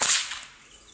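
A classic overhead whip crack fires once, sharp and close, right at the start, then fades quickly into quiet.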